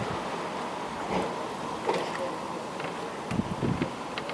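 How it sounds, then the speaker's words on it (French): A strong gust of wind drives snow during the first snowfall, a steady broadband roar with louder buffeting surges and microphone wind noise. "La neige. Sous forme de forte bourrasque."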